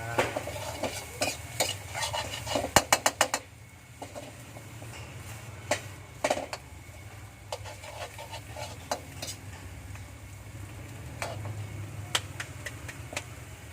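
Food being stir-fried in a pan over high heat: steady hissing sizzle with repeated scraping and clinking of a utensil against the pan, a dense burst of stirring strokes early on, then scattered knocks.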